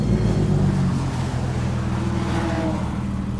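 A Porsche 911 GT3 RS on a race track makes a close, steady engine drone with strong low harmonics, holding a fairly constant pitch throughout.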